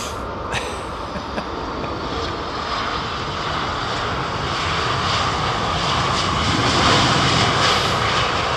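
Aircraft engine on a Dreamliner at London Heathrow spooling up under an air starter, a steady broad roar building slowly and growing louder toward the end, with no talk over it.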